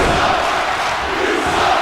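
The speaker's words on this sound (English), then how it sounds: "this crowd can sense Justice Fitzgerald winning this matchup, and they're booing her" Arena crowd in the wrestling video game WWE 2K booing, a dense, loud, sustained wash of voices with no breaks and no distinct talk over it.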